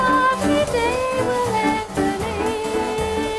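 A school jazz group made up of old pals performs at a local charity show, ensemble instruments playing a dense, continuous tune with sustained melodic lines and steady low accompaniment, loud and close with no talking.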